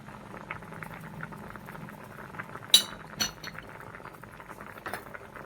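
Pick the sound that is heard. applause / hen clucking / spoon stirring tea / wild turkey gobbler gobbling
spoon stirring tea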